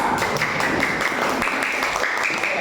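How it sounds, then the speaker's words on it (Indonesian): Classroom applause for a group of fifth-grade pupils: dense, steady clapping from many hands that fills the whole moment without a break, fairly loud and close, with no talking over it. "Tepuk tangan untuk kelompok 5."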